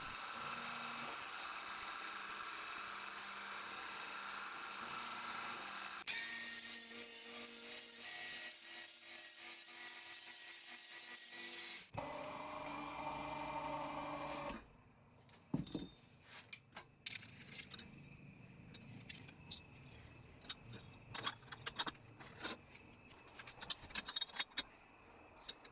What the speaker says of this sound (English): I decided to chop this off with a 3mm end mill